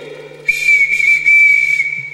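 A whistle blown as a signal onstage in a high school production of The Sound of Music, a loud shrill sustained blast broken into three quick bursts over a faint low hum.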